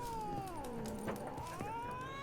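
A cat meows in the video game The Witcher 3, giving a long drawn-out wavering cry over quiet background ambience, faint and without speech.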